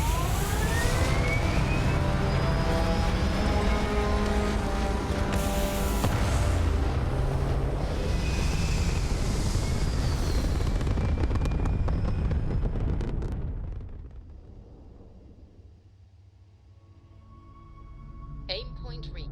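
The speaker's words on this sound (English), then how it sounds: "All thrusters firing." Spaceship thrusters in Starfield roar as a loud, steady rumbling hiss that holds for about thirteen seconds, then drops away to a quieter hum with a faint chime near the end.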